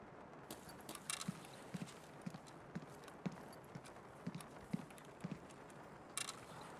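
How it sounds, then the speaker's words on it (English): Faint, regular footsteps thud at an even walking pace in Escape From Tarkov over a soft, steady hiss of rain, quiet and somewhat distant. "Footsteps."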